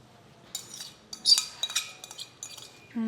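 Cooled tempering poured into a raw amla pickle and mixed with a metal spoon, bringing a series of close clinks and scrapes against the bowl, sparse at first, then busier, ending in a louder scraping stir.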